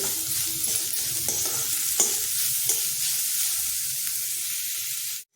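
Cabbage is stir-fried in a pan, a steady close hiss and sizzle with a few scraping stirs of the spoon that ends abruptly, no one speaking.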